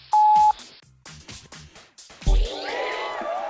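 A loud censor bleep from the dance video game Dance Central, a single steady electronic tone of about half a second that cuts off a voice, followed by more speech over music.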